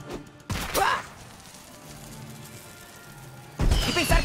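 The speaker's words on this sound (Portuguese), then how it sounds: "E pensar que fogos de artifício são tão perigosos." Fireworks in the South Park video game: two bursts of crackling explosions, one near the start and another at the end, with a quieter hiss between them.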